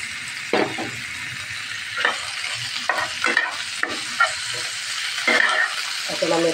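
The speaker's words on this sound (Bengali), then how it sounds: "এখন আমি পেঁয়াজ রসুনের পেস্ট এবং কাঁচামরিচটা দিয়ে দিলাম।" Onion-garlic paste and green chilies sizzle in a pan with meat, loud and close, broken by several sharp scraping stirs of a spoon against the pan.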